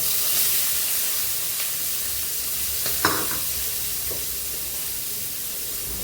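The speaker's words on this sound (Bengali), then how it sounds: "এখন আমার এই তেলের মধ্যে দিয়ে দিচ্ছি পেঁয়াজ।" Onions drop into hot oil in a pan where fish heads and peanuts were just fried, giving a steady, close hiss and sizzle with a brief clatter midway.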